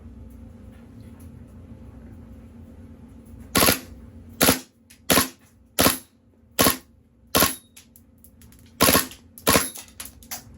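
A KWA KZ.61 gas blowback airsoft gun fires in burst mode, giving about eight sharp, loud bursts spaced around half a second to a second apart after a quiet opening stretch.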